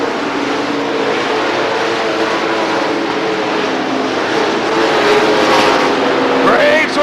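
Stock race cars at Rockford Speedway in 1993 roaring as the field accelerates away on the green flag, a loud sustained wall of engine noise that swells near the end, with commentary over it.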